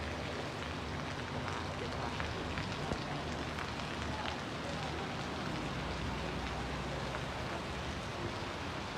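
Steady rain falls at a roadside motorbike crash scene, a continuous even hiss of drops on surfaces at moderate distance, fairly faint, with no speech.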